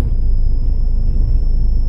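Kenworth W900L truck rolling backwards in Euro Truck Simulator 2, a steady low engine rumble with a faint thin whine held above it, continuous and close for under two seconds.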